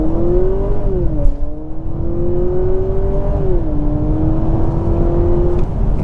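A 2023 Honda Accord Sport Hybrid revs up steadily with a rising whine, easing off briefly before climbing again, loud and close with no talking.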